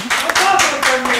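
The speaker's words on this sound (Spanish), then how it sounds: "¡otro aplauso!" A studio audience at a Spanish-language TV variety show claps through a short stretch, with a voice speaking loudly over the applause the whole time.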